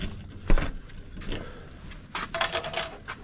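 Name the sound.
keys jangling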